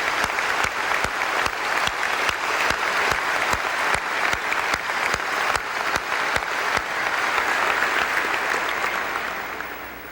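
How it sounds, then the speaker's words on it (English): An audience at a political speech bursts into sustained applause, with dense, steady clapping from a large crowd that holds for about ten seconds before tapering off at the end. "let us give a warm round of applause to all of the brothers and sisters who work so hard to make this happen."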